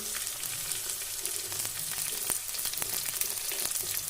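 Onion and garlic fry in hot oil for a Kerala green gram thoran, a dense, steady crackling sizzle with scattered sharp pops, close up and constant throughout, with no voices.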